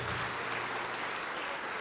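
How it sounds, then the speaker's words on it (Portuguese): Applause from a church congregation, a dense, steady clatter of many hands clapping together, loud and continuous throughout. "Vamos aplaudir muito."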